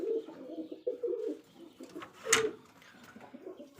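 A male Rajshahi Giribaj pigeon coos in low, repeated throaty phrases close by, with a brief sharper noise partway through.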